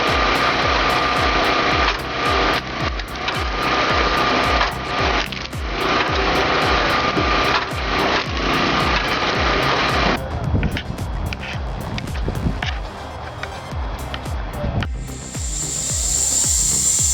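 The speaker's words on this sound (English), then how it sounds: "This homemade bandsaw is pure ingenuity." A homemade bandsaw with a spring-arm power cable cuts wood at a firewood-processing site, a continuous motor whine under rapid rhythmic ticking that shifts in tone partway through, close and loud.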